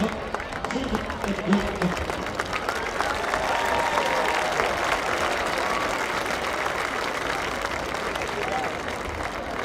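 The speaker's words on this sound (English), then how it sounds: "one more applause for the Wall of Excellence" A crowd at a varsity football game applauds steadily for several seconds, a dense wash of clapping heard from a distance with faint murmuring underneath.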